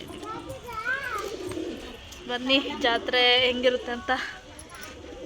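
A pigeon coos close by in a few soft, rolling calls, mixed in with people talking nearby.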